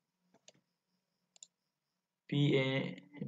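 A computer mouse gives a few quick, faint clicks in a quiet room, spaced apart, followed by a person starting to talk.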